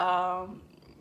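A cat gives a short, close, voiced purring sound that starts strong and fades out within about a second.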